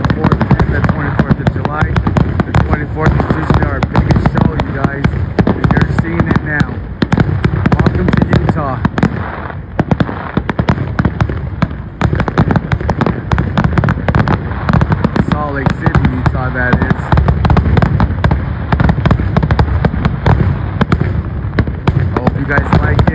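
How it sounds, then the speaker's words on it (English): A large Fourth of July fireworks show bursts continuously with dense, rapid crackling and booming volleys, loud and close, with voices talking over the barrage. "I hope you're enjoying the fireworks show."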